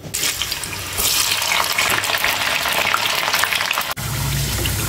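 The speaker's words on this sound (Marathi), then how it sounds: "इथे सगळ्या भाज्या फ्राय करून घ्यायच्या आहेत" Vegetables for undhiyu fry in hot oil, a loud, dense, continuous crackling sizzle heard up close, with a brief dip near the end before the frying resumes; no voices.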